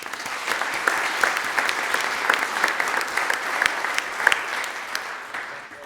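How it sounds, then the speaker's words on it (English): An audience at a community college board of trustees meeting applauds retiree Peggy Ann Wells, sustained clapping from many hands with scattered louder claps near the front. "please join me in a round of applause for her"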